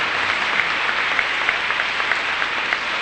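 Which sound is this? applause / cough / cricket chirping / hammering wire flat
applause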